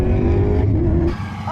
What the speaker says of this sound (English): They got drifting going on